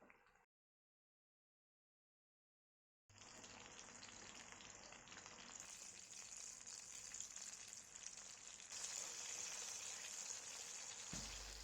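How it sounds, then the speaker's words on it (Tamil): Marinated barracuda fish pieces shallow frying in oil, a dense steady hiss that starts abruptly after a brief silence and stays loud and even, close by with no talking. "மேரினேட் பண்ணி வச்சுருக்க ஃபிஷ் பீசஸை ஷாலோ ஃப்ரை பண்ணி எடுத்துக்கலாம்"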